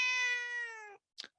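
A domestic cat gives one long, clear drawn-out meow close by, followed by a short soft second chirp-like mew after a brief pause.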